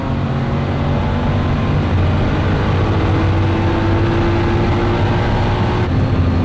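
Porsche 964 Gunther Werks turbo car accelerating hard in fourth gear, a steady loud engine drone with rising harmonic tones throughout and no talk.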